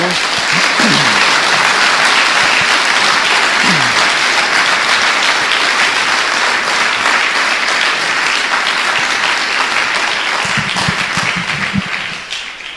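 A church congregation applauds loudly and continuously for nearly the whole stretch, a dense sustained roar of clapping that starts to fade at the very end.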